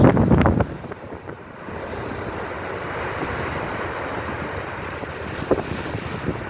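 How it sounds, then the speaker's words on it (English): Steady roar of surf breaking and washing ashore on a lakefront beach facing downtown Chicago during a lightning storm, mixed with blustery wind rumbling against the microphone, a few knocks at the start. "You can see the waves crashing"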